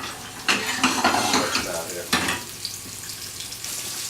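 Kobe beef searing in a saucepan, a broad sizzle with sharp bursts as the meat hits the hot pan, then a steadier frying hiss with faint scrapes, close and fairly loud.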